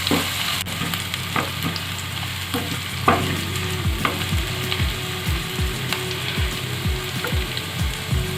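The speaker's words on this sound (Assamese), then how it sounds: "এতিয়া মছলাখিনি ভাজি লওঁ আৰু 1 মিনিটমান সময়।" Garlic, ginger paste and chopped green chillies fry in hot oil while a spoon scrapes and stirs through them, a close sizzling hiss broken by repeated stirring scrapes.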